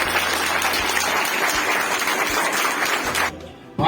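Audience clapping at a political party meeting, steady dense applause filling most of the clip before dropping off sharply near the end and briefly resuming.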